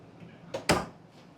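A drawer in a 2025 Fleetwood Bounder 33C RV slides with a short soft rub, then shuts with one firm, fairly close thump, all within a quiet interior.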